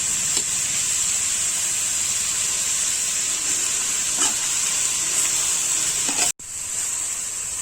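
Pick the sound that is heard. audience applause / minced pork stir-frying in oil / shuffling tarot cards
minced pork stir-frying in oil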